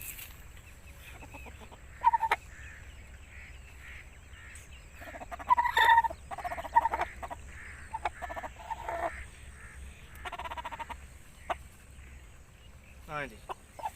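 An Aseel rooster clucks in short, scattered bursts, with a louder call partway through. It sounds fairly close over a quiet background, and people talk nearby.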